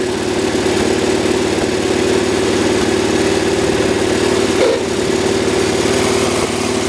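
Cub Cadet 1200 garden tractor engine running with a slipping clutch: a loud, steady, close-up idle with a rapid low throb and a brief dip in the middle, no talking.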